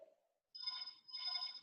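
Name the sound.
phone ringing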